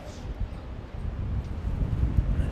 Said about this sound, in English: if you're joining us slightly later, very, very windy.